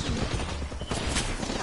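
Gunfire in a PS4 shooter game aimed at the player, a dense burst of rapid shots in a steady crackling barrage, loud and close, with a voice talking over it.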